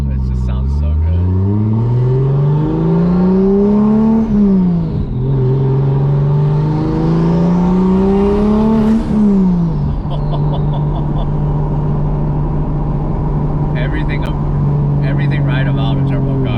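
A Toyota GR86 swapped with a turbocharged 2JZ engine and no blow-off valve, prone to compressor surge, revs loudly up and down in close, rising and falling sweeps, then settles into a steady drone with faint high chirps near the end.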